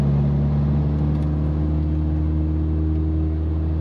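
An electric auxiliary heater in a Seat Leon 2.0 TFSI blows warm air and hums steadily, a loud, constant low drone with layered harmonics and no break.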